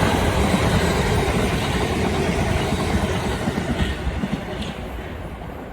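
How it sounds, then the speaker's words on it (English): A non-stopping train runs through Queenstown Road Battersea station at speed, a steady loud rumble with wheel clatter that fades slightly toward the end. "The train now approaching platform 2 doesn't stop here."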